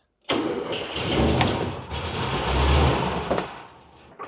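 An old Volkswagen van, a 1960s Transporter, cranks and fires up, its engine catching and settling into a loud, steady running idle close by, with no talk.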